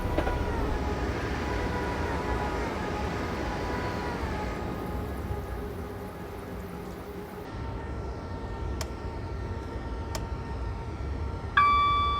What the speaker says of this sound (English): Wave at the train as it goes past here.